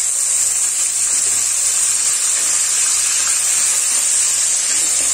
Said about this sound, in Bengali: এবার গ্যাসের ফ্লেমটা লো টু মিডিয়ামে রেখে পেঁয়াজটাকে একটু ভেজে নেব।